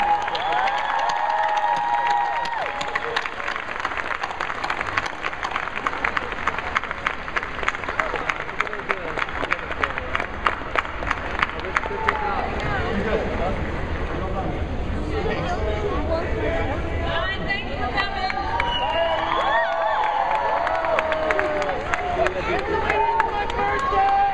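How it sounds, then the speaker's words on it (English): Big Comic Con 2010 hall crowd for the Salt panel: sustained applause and cheering with dense clapping, whoops and crowd babble that swells and keeps going for the whole stretch. "Please give a warm round of applause to the cast and creators of Salt."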